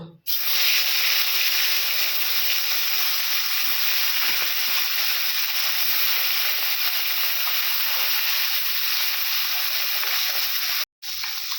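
Fish frying in hot oil in a wok, giving a loud, steady hiss that runs without a break until a short drop just before the end.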